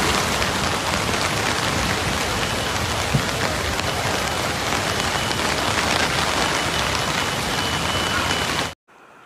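Heavy, steady rain pours down on a flooded Shanghai street, a dense continuous hiss with scattered drops, then cuts off abruptly near the end.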